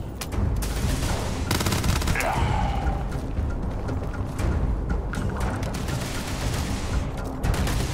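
Gunfire from a weapon in the space game Starfield, a dense, continuous stream of shots and mechanical clatter filling the whole stretch at steady, loud level, with a few brief whooshing effects.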